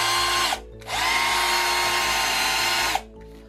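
A Parkside PAAP 12 A1 cordless polisher with a foam pad runs at high speed, a loud steady whine that stops briefly, spins back up for about two seconds, then winds down.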